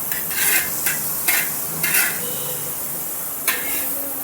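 Butter melting in a pan for egg chapathi gives a soft, steady sizzle, broken by a few sharp scraping strokes of a utensil against the pan.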